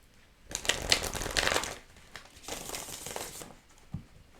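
Close riffling and snapping of a deck of tarot cards being shuffled, in two brisk bursts with a short pause between them.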